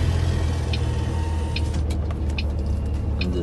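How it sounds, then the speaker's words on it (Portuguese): Race car engines drone steadily in a loud, constant low rumble with faint intermittent higher whines, heard without any talk. "Os carros de corrida deles."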